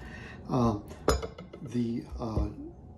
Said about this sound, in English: Ham hock's going in the pot.